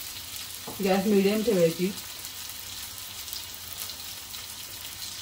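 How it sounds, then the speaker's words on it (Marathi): Hara bhara kebabs shallow frying in oil give a soft, steady sizzle throughout, briefly masked by someone speaking near the start and then continuing alone at low level. "ह्या साईडने आपण 1 मिनिट तळून घ्यायचे, नंतर पलटी करायचं दुसऱ्या साईडने।"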